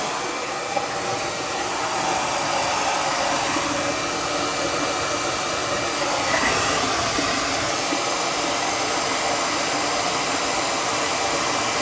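A hair dryer runs continuously to dry hair after a shower, a close, loud and steady airy whoosh lasting throughout with no speech.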